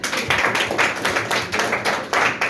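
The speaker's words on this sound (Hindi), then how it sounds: "चलो ताली बजाइए पर इनके लिए।" Students in a classroom clapping for a classmate: a short run of steady, moderately loud hand claps in an even rhythm, with no talking over it.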